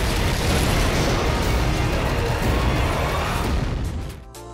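Just Cause 3 open-world game explosions form a dense, loud roar of blasts and crashing debris. The roar sustains for several seconds before fading out abruptly.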